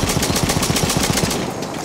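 A light tank firing canister shot in a video game, a rapid, evenly spaced string of about a dozen loud close reports before it cuts off.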